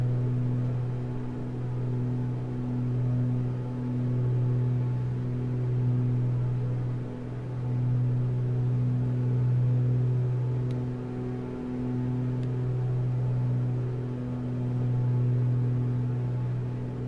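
Light aircraft engine in Microsoft Flight Simulator, throttling for takeoff: a steady, droning mid-pitched engine hum that swells and eases slightly in a slow rhythm, continuous and alone for the whole stretch.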